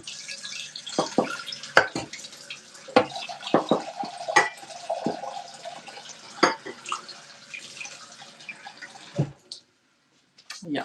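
Tap water runs into a pot in a kitchen sink, a steady faint splash broken by sharp clanks and knocks of the pot, then cutting off before a brief final thud.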